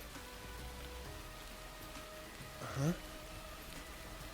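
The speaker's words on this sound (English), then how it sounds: "Unlike all this rain." Steady rain from the video game Master Detective Archives: Rain Code falls throughout as a soft, continuous hiss, with a short spoken exclamation briefly rising above it near the end.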